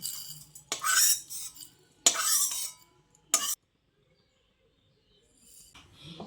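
Fried spice mix scraped out of a kadai into a bowl, three bursts of metal spoon scraping and clinking separated by quiet gaps, with faint bird chirps in the background.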